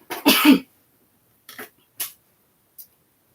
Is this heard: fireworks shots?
no